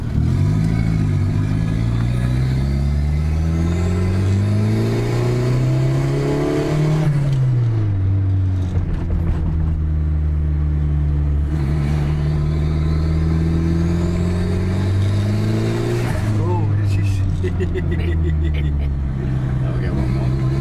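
A turbocharged 1999 Ford Festiva Trio engine revs loudly up and down in two long sweeps, pitch climbing then dropping, with steady idle rumble between and close, continuous sound throughout.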